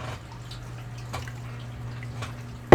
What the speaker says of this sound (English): Sorry for the water sound. It's right next to my mic.